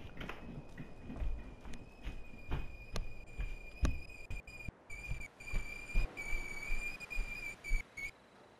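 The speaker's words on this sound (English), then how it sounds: "that was water boiling and I was hearing the whistling sound" A kettle of boiling water whistles indoors, a thin high tone that sounds in short intermittent bursts, fairly faint, over soft low thumps and background noise.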